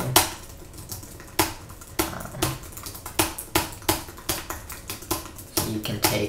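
Clicky computer keyboard keys typed in an irregular, quick rhythm during an online typing test, close and crisp with brief pauses between bursts of keystrokes.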